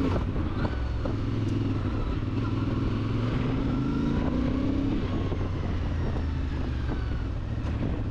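Brand new CFMOTO 450MT motorcycle engine droning steadily while riding in Cyprus, kept under 4,000 RPM, a continuous loud rumble with wind noise and a slight rise in pitch midway.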